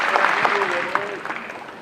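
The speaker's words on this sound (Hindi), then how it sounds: "एक बार जोरदार ताली तारिक अनवर साहब के इस खूबी के लिए" Crowd applause at a political rally, a Bharat Jodo Sammelan in Gaya, Bihar, sustained clapping from a large audience with a voice speaking over it.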